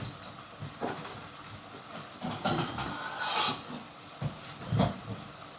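Steam hisses from the vent of a cooking pot lid as sinigang simmers. The hiss comes in intermittent airy bursts with low bubbling and clatter beneath, with one stronger, longer hiss near the middle.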